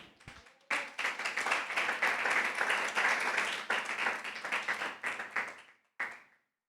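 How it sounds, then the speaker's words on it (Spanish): Church congregation breaking into applause for the Lord, a full burst of clapping that swells and holds for several seconds, then trails off into a few scattered final claps. "Denle una ofrenda de palmas al Señor."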